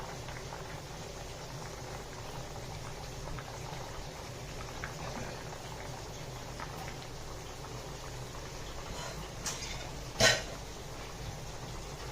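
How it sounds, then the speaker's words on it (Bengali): Potatoes and ridge gourd boiling in a pot, a steady soft bubbling simmer that stays even and quiet throughout, with one brief clink near the end. "আলু ঝিঙে সব সেদ্ধ হয়ে গেছে"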